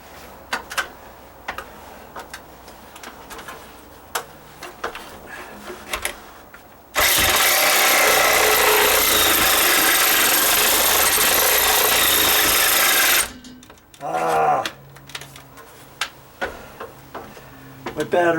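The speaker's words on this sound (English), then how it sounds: "The joys of a battery operated Sawzall." A battery-powered Sawzall with a 9-inch blade cuts through rotted deck wood in one harsh, loud, continuous rasping burst of about six seconds, with scattered taps and handling noises before and after.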